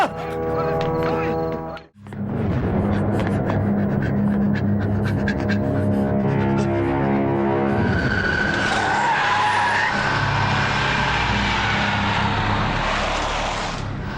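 A car revving hard and speeding away with a long tyre screech, a loud continuous engine roar after a brief cut, rising into a hissing skid, with a voice faintly mixed in.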